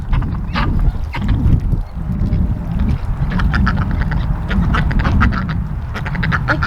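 Ducks quack repeatedly in short bursts over a steady outdoor backdrop, mixed in with a flock of chickens sharing the space; the calls are moderately near and continuous.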